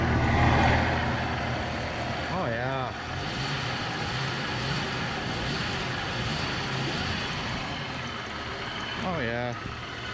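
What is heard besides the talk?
1998 Jeep Cherokee XJ engine running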